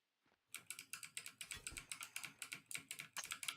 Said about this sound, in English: Mini clicky clackies.